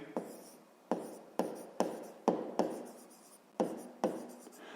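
Close, quiet scratching strokes of writing out a fifth-grade maths solution, in irregular bursts of about eight marks, each sharp at the start and fading quickly.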